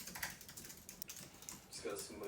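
Quick, light keystrokes on a computer keyboard in a Sydney work-from-home setting, close by as an irregular run of small clicks with a faint low background murmur.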